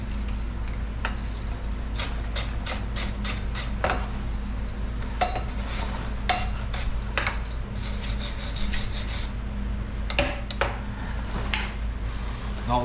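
Bolt threads on Kawasaki Brute Force 750 front A-arm hardware being cleaned, a rough scraping and rubbing with repeated sharp metallic clinks and taps over a steady low hum, fairly close, with no talking.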